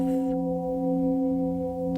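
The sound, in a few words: gong tones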